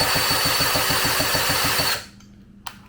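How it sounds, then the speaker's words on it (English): A power drill fitted with a 12mm socket spins a Syx Moto 50cc dirtbike engine over, giving a loud rhythmic whirring chug for two seconds before it stops abruptly, followed by a single small click. "I'm just going to use a drill with a 12mm and we'll check for spark one more time."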